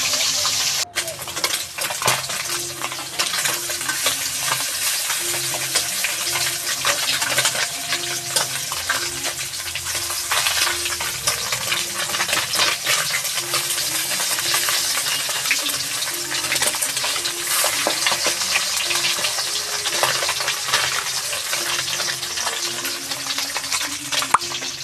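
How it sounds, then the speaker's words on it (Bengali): Small puti fish frying in hot oil in a few batches, a steady bright sizzle and crackle that runs throughout with light stirring clinks, no talk. "এর জন্য আমি অল্প অল্প করে ভেজে নেব।"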